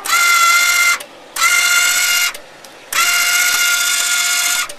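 A welder's wire feed, its spool freshly packed with wheel bearing grease, runs in three loud, close bursts of steady motorized whine separated by short pauses.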